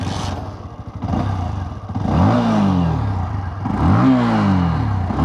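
A Bajaj Platina 110 motorcycle being ridden, its engine revving up in two rising surges with some clatter and road rumble, loud and close.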